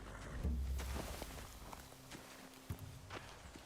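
Hooves of horses shift and step in a video game set in The Walking Dead, with scattered soft clops and thuds over a low ambient bed, no speech.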